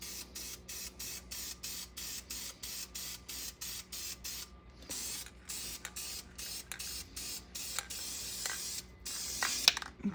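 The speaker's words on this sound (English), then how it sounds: "Once you get it to the point you want, spray it with sealer." Repeated short bursts of spray hissing as sealer is sprayed onto sanded wood, each lasting under a second with brief gaps, up close and steady, followed by a few longer bursts.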